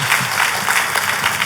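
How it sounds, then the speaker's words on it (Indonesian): A church congregation claps together after a call to give praise, a dense, steady patter of many hands filling the room for a moment, fairly close and even, with no talk over it. "Tepuk tangannya pula yang paling meriah buat Tuhan kita."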